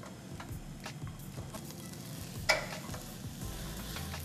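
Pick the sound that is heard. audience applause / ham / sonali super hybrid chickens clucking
ham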